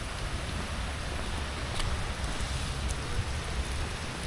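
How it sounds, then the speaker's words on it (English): Steady rain falls in Soweto, South Africa, a dense, even hiss of drops hitting surfaces nearby, continuous and fairly loud with no voices. "It's raining."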